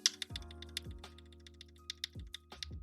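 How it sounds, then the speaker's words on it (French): Irregular clicks and clacks of typing on a computer keyboard, close and fairly quiet, with soft thumps mixed between the keystrokes and no talking. "je pense que là vous avez entendu mon bruit de clavier"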